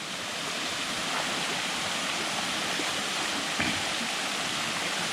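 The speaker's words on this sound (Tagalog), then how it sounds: "Talsik talaga tubig." Constant rushing, splashing water fills the clip at a campsite, loud and close, with no voices.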